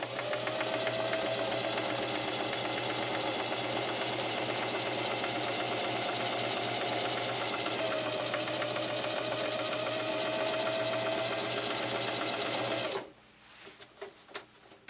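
Singer Heavy-Duty 4423 sewing machine running continuously at speed for about thirteen seconds, a loud, close, steady whirring rattle with a slight pitch shift midway, then stopping abruptly, followed by a few light handling clicks.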